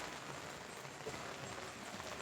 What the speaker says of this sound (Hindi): लेकिन बारिश बहुत तेज़ चालू हो गई है